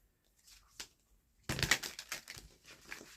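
Tarot cards shuffled by hand, a quiet rapid riffle and flutter of card edges that starts after a faint tap and goes on in fast close bursts to the end.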